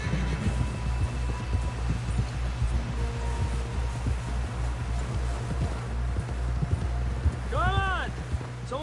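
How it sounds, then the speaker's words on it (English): Horse hooves clip-clop at a steady rhythmic pace in the Red Dead Redemption 2 video game, close and continuous under ambient noise, with a brief whinny-like call near the end. "Someone help John down off this horse"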